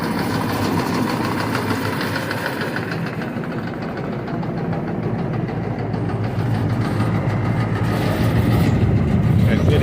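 A Clipper AGM 224 seed cleaner running continuously, giving a steady, even machine hum with a dense rattling of the agitated cleaning balls, loud and close with no talk.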